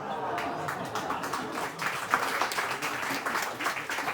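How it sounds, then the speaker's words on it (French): A comedy club audience applauds at an evening show, a dense, moderately distant patter of many hands that runs steadily throughout. "Ça, c'est un public bien éduqué, il applaudit"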